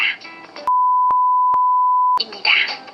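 A steady electronic ringback tone sounds for about a second and a half, with brief clicks on either side and muffled noise before and after.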